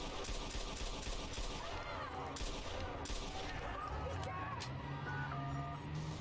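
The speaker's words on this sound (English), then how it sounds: "Someone's firing off a gun." Rapid, sustained gunfire from the Watch Dogs video game, dense bursts running continuously under game audio and voices, loud and busy throughout.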